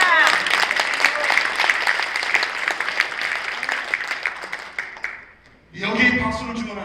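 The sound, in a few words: audience applause at speech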